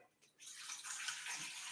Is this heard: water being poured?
yes